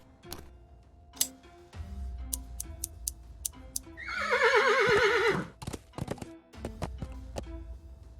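A horse whinnies in the video game Willy Morgan and the Curse of Bone Town, one loud, shaking neigh lasting about a second, set among crisp ticking clicks and soft game ambience.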